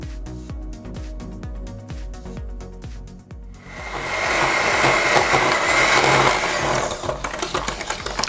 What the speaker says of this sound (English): With a hand mixer it's gonna take a little bit longer, with a standing mixer just a little bit shorter.